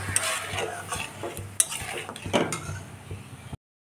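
Sugar and cashews cooking in a pan for papaya chutney, soft sizzling with repeated stirring scrapes and light clinks of a spoon against the pan, close and without talk, ending abruptly.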